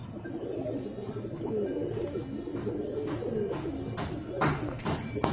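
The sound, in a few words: female pigeon cooing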